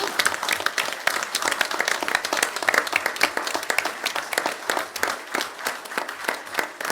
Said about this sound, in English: I think we should give Trevor actually a jolly good round of applause